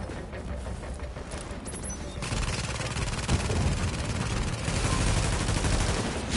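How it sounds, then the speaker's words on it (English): Enemy turret fire in The Division survival PvP mode, loud rapid bursts that grow denser and heavier partway through, with no voices over them. "That turret just ripped me up."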